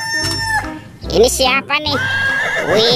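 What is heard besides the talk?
toy horse neigh sound for zebra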